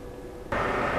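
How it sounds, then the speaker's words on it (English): Argon ion laser running in a workshop, a steady broadband hiss and cooling roar that abruptly jumps louder halfway through and stays constant. "I've got an argon ion laser set up in the background, which is what's responsible for all the noise"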